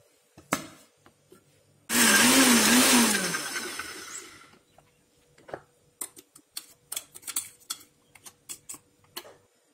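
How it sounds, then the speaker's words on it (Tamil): A mixie blender grinds almonds in its small jar, giving one loud, steady two-second whir. Sharp clicks and taps from handling the jar follow. "அதனால முதல்ல பாதாம சின்ன ஜார்ல அரைச்சிட்டு அதுக்கப்புறமா நம்ம பெரிய ஜாருக்கு மாத்தலாம்."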